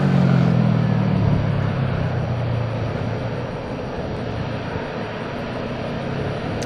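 An American Airlines airliner from San Francisco at a busy airport makes a broad, steady engine roar that starts loud and slowly eases off, heard from a distance with no clear voices.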